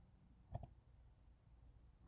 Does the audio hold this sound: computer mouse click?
yes